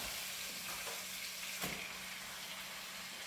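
Food fries in a pan for a budget family meal, giving a steady, close hiss and crackle of sizzling oil throughout.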